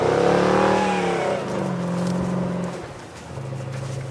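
A car engine revs hard and repeatedly while stuck in mud and snow, loud and close, pitch rising and falling in strained bursts with a steady drone between pushes.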